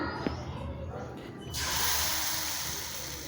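A brass murukku mould heats in a pan of hot frying oil, giving a steady sizzling hiss that swells and grows louder partway through, with a faint click near the start.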